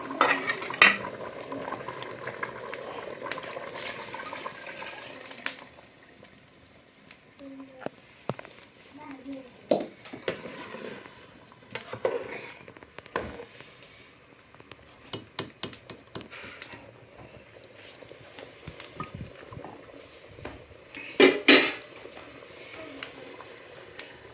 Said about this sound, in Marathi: आता चांगलं कडा कडा कडा कडतं या म्हणजे रटाच वाजतं